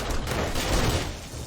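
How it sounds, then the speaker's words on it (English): Dense, continuous gunfire in the zombie survival game 7 Days to Die, a loud sustained barrage of overlapping shots with no clear gaps, no voices heard. "All you hear is gunfire."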